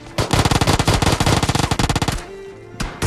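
Rapid shotgun blasts boom in a video game match, a dense string of loud shots fired in quick succession for about two seconds, followed by a short pause and a couple more heavy shots.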